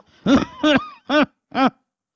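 A person imitates coughing with four short, harsh voiced bursts in a steady rhythm. The sound is close and fairly loud, and there is no other sound.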